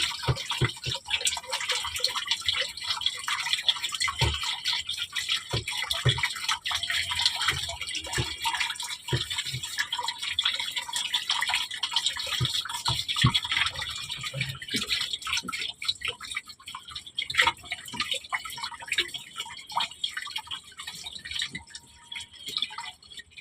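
Water drips and trickles while a washing machine is being cleaned. Irregular drops and splashes patter on throughout over a thin wash of running water, fairly close, with no talking.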